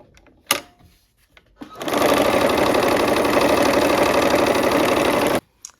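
A sewing machine stitches a quilt square onto a rectangle: after a couple of brief clicks it runs in one steady, close, loud whirring burst of rapid needle strokes for about three and a half seconds, then stops abruptly.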